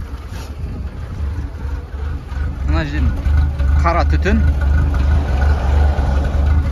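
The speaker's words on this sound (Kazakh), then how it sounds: "Мотор қалшылдап жұмыс істеп тұр" A Lada Kalina engine idles roughly on an over-rich fuel mixture, a steady low rumble close by and continuous throughout, with someone talking over it.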